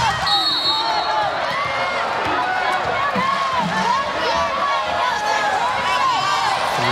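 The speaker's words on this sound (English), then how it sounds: "and the crowd applauding." Crowd applauding and cheering in an arena during a 2017 Hawaii versus Cal Poly women's volleyball match, a steady loud wash of clapping with a commentator talking over it and squeaking shoes.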